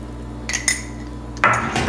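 Beans stirred in a cooking pot with a utensil, giving a few short metallic scrapes and clinks against the pot's side, the last one louder, over a low kitchen hum.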